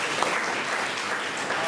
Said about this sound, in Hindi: सो बहरून बहन को हम आइए तालियों के साथ।